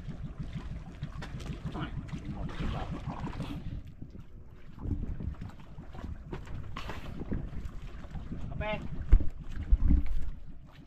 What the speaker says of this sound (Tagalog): naririnig ko na naman yung bangka ni Tubal.